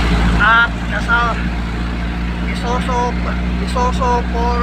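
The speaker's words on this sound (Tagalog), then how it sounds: "pakinggan ninyo ang tunog ng makina" A loud, steady truck engine drone with a deep low rumble running throughout, while someone talks over it.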